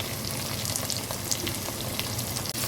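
Sliced onions frying in a pan give a dense, steady sizzle with scattered pops and crackles, close and moderately quiet, with no voices.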